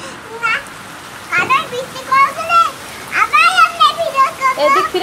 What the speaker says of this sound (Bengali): আজকে আবার বৃষ্টি হচ্ছে।